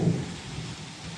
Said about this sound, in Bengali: বৃষ্টি হচ্ছে, টানা বৃষ্টি চলছে কখন থেকে